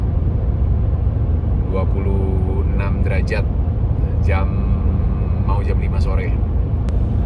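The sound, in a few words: cars driving fast on the highway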